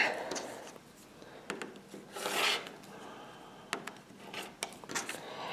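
A rotary cutter slicing quilting fabric along a ruler while cutting squares for a mystery quilt: scattered scraping, rasping strokes, close and fairly soft, with one longer cut in the middle and short clicks and rubs around it.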